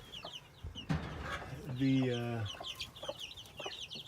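Young free-ranging chickens, about four weeks old, cluck and squawk close by around a water feeder, with one longer drawn-out call in the middle and a faint word spoken over the birds.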